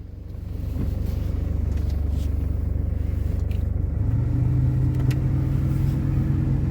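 A vehicle engine idles steadily with a deep, continuous rumble close by, holding an even level throughout with no voices.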